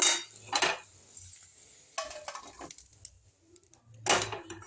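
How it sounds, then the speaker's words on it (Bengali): Fried onion fritters are tipped from a pan into a bowl, with a few close, sharp metal clinks and scrapes of utensils scattered across the moment and no talking. "এবার আমি একটা পাত্রের মধ্যে ঢেলে নেব।"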